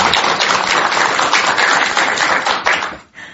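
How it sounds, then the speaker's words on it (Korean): Warm applause from an audience at a Buddhist broadcast talk, dense, loud clapping that carries steadily for about three seconds and then cuts off abruptly, heard alone. "우리 긴장 푸시고 힘내시라고 뜨거운 경제 박수 부탁드리겠습니다"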